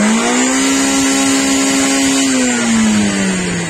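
A car engine revs hard at an exhaust loudness contest, a loud, sustained droning roar held near and steady, then sagging slightly at the end.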